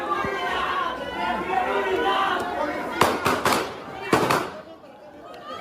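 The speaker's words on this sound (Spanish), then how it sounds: "Disparos que seguían." Gunshots ringing out inside a crowded hall during the attack on presidential candidate Villavicencio, several sharp cracks in quick clusters over panicked crowd chatter and voices.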